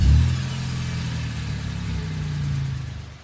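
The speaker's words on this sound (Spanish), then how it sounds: "Al terminar de decir esto, mi auto arrancó de forma inexplicable." A car engine unexpectedly starts on its own, a loud initial burst settling into a steady low idle rumble with a faint rise near the end, heard alone.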